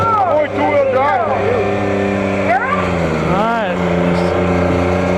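Garden tractor engines roar loudly and continuously at a tractor pull, with rising and falling revs as a machine strains down the track, under a brief spoken word.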